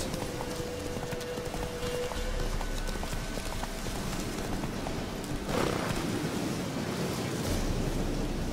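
Geralt's horse Roach gallops in The Witcher 3: Wild Hunt, hooves pounding in a fast, steady clip-clop rhythm. Wind and surf-like rushing fill the background, with a faint rider's voice at times.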